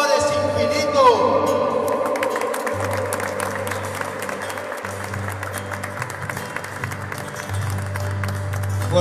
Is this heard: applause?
yes